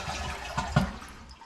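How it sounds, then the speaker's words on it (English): A toilet with its water supply shut off flushes in a short burst of rushing, gurgling water, heard fairly close. "You can give the toilet a flush."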